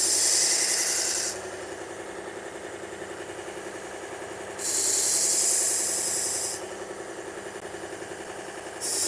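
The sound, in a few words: sharpening silver plated knife on 120 grit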